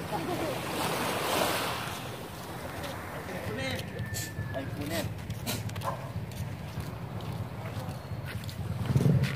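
A calm sea laps steadily at a seaside baywalk in Buena Vista, Gasan, Marinduque, a soft continuous wash with light wind noise and a slightly stronger swell at the end, with a voice talking over it.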